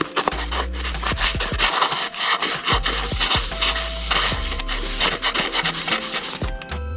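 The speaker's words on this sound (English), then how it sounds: "I'm going to hit those with something like 3000 grit sandpaper real quick just to try and clean them up." A part from a Honda XR250R dirt bike rear shock is rubbed by hand with 3000 grit sandpaper, close rhythmic rasping strokes repeating steadily over a low hum, no speech.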